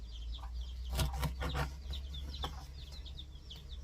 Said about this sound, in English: Do you hear the chickens outside?